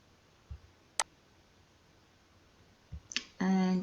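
Computer mouse clicks on a design app, a few single sharp clicks spaced apart, then a burst of brighter clicking with a soft tonal sound at the end, over quiet room hiss.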